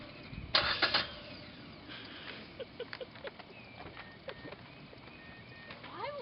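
A car engine cranks with a burst of starter grinding, then repeated short catching attempts that never settle into running, close and fairly loud, with a rising whine at the end.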